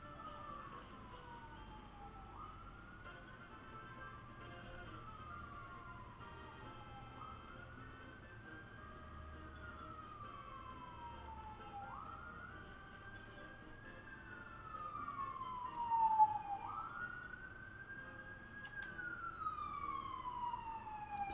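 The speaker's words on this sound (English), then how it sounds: "Apologies about if you can hear those sirens in the background." Emergency sirens wail in a repeating rising-and-falling pattern, somewhat distant, over a low hum of road traffic.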